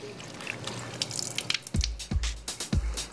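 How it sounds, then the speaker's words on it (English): Catfish pieces rinsed under a running kitchen tap: a steady soft water stream, then several close, heavier splashing gushes in the last half as the pieces are handled in the flow. "let me give these a quick rinse."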